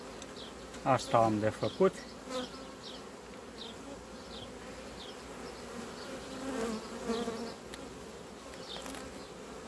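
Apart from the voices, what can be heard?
honeybees swarming on a hive frame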